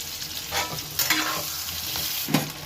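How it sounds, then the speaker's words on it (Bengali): Pieces of eggplant fry in hot oil with a steady, close sizzle, broken by a few louder stirring scrapes and spatters; no one speaks. "এই গরম তেলের মধ্যেই বেগুন কটা ভেজে নিচ্ছি"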